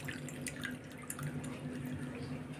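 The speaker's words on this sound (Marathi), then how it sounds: "आता गाळून घ्यायचा." Boiled Ayurvedic herbal decoction for cold and cough being strained, with a steady trickle and dripping of liquid close by, running continuously for a few seconds with no talk.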